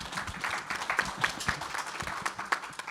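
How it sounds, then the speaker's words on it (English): An audience at a Star Wars fan convention panel breaks into brief applause, a steady patter of many hands clapping at moderate distance. "So, applause to you for that."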